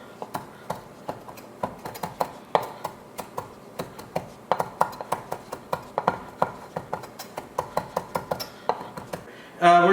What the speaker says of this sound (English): So now we're going to finally chop up our cilantro.